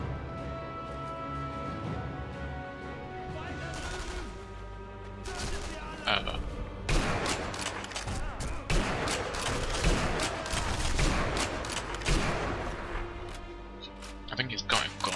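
Machine gun fire in Sniper Elite V2, with rapid bursts and sharp overlapping shots that grow denser in the second half, heard under a person talking.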